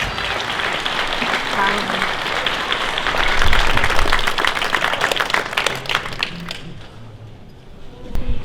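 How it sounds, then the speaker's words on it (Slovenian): Loud applause from an audience at a cultural evening and exhibition opening, dense clapping that swells midway, then thins and fades near the end, with voices mixed in. "prosim velik aplavz"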